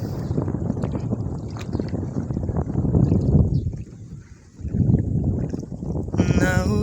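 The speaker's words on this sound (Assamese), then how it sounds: "নাউৰিয়াই নাও চলে" A boatman rows across a river, the water lapping and swishing in a steady rumble with wind buffeting the microphone, dipping briefly midway.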